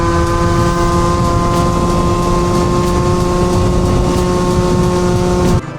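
An engine fitted with a Stage 6 overrange kit screams at high, sustained revs, a loud, steady tonal whine close by that cuts off abruptly at the end.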